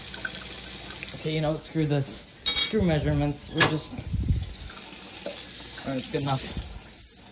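Running tap water fills a pot for boiling, a steady hissing stream beneath someone talking throughout, with some clattering handling sounds.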